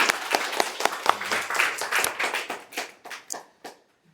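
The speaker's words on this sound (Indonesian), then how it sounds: "beri tepuk tangan untuk Teh Risna" An audience at a writing talk gives a short burst of clapping, individual hand claps distinct and close, tapering off and stopping within about four seconds.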